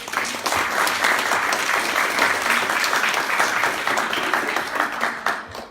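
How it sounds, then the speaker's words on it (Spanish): Sustained audience applause welcoming a guest speaker at a history talk in Mexico City, a dense steady wash of many hands clapping at even loudness throughout, with no voices over it. "lo recibimos con un fuerte aplauso."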